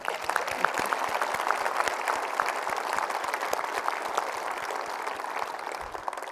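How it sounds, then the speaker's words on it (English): Audience applause at an Apollo 17 and Artemis space event, a steady sustained wash of many hands clapping at moderate loudness for several seconds, dense and even throughout. "I think that deserves a round of applause."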